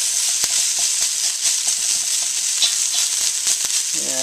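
Sweet red peppers frying in a hot pan for fried rice, giving a steady, loud sizzle with scattered crackles and a few sharp pops, heard alone and close up without any talking.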